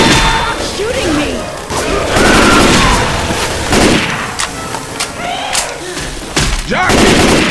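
Loud gunfire and blasts in Left 4 Dead 2 versus mode on the Dark Carnival map, repeated sharp shots and booms in irregular bursts amid chaotic game noise.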